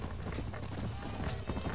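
Horse hooves in Red Dead Redemption clip-clop in a quick, steady galloping rhythm, close and continuous over low background game sound.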